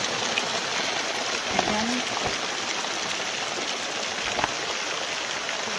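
Rain falls steadily on a roof and tarp during a shingling job on a roof patch, a continuous close hiss with scattered drip taps, and a voice speaks briefly over it.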